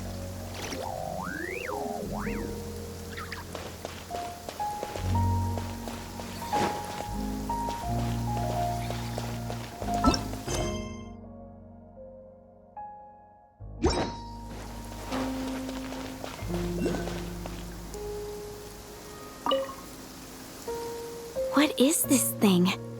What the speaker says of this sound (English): Rain? My hair and feathers are gonna get soaked.